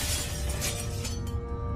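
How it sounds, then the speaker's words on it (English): Glass shatters in a dense, bright burst of breaking fragments that fills the whole moment loudly, then thins out as the debris settles. "When I heard the unmistakable sound of glass shattering"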